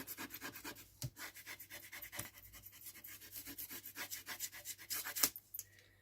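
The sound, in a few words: burnishing down a folded paper tissue box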